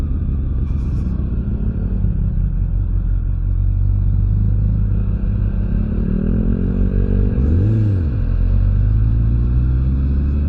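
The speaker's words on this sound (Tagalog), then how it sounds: "Ganda ng tunog ng CB." A Honda CB motorcycle idles with a deep, steady, close rumble, then gives one short rev that rises and falls before settling back to idle.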